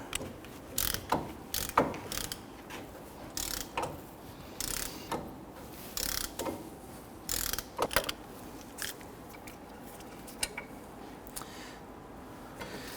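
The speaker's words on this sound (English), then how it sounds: "I want to go ahead and break the other bolt free." A ratchet wrench breaks loose a brake caliper bracket bolt on a Honda Ridgeline's front brakes, clicking in quick, fairly quiet bursts of ratcheting strokes separated by short pauses.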